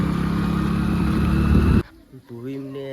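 Loud, close engine drone from a tractor and a motorcycle travelling ahead on a road, steady and rumbling for nearly two seconds before cutting off abruptly, followed by quiet with a voice talking.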